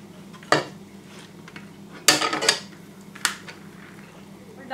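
Rice spooned back into a pot of biryani, with a few sharp metallic clinks and scrapes of a utensil against the pot, spaced apart over a quiet background.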